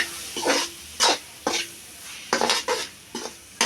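Chopped large tomatoes being stirred in a cooking pan for an egg curry, with a series of close, distinct scraping strokes in an irregular rhythm over a faint sizzle, no voices.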